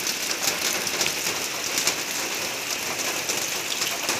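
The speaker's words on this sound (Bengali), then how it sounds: "কিরকম বৃষ্টি।" Steady morning rain falls on a residential building and surrounding surfaces in Hailakandi, a dense even hiss of drops, close and continuous with no voices.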